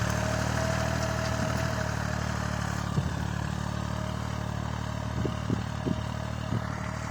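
A Chinese-made tractor engine runs steadily close by while ploughing a former corn field, a continuous low rumble with occasional clanks and knocks over it.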